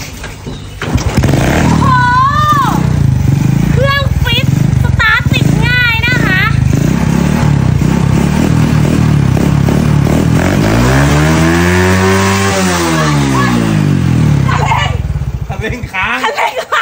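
A Honda Wave 100 motorcycle engine runs nearby, with a dust-stuck throttle cable; it idles under voices talking and laughing, then revs up and falls back once before settling.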